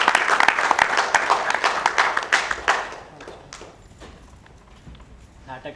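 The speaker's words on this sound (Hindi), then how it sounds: "जोरदार ताली भजबाक चाही" Audience applause after a Hindi stage play, loud dense clapping for about three seconds that thins into scattered claps and fades, with a voice at the end.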